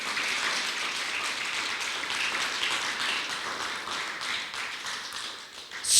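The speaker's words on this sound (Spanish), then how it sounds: "Démosle un aplauso con todo el corazón" A church congregation applauding together, dense sustained clapping from many hands that holds steady for several seconds, with no speech over it.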